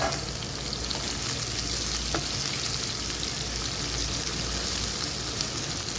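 Cooking oil sizzles and fries steadily in a pot while chicken biryani is being made, a loud, even crackle that fills the whole stretch with no talking.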